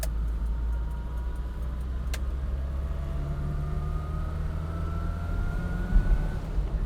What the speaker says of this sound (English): that little engine does make itself known. You get this little whining, whirring noise from it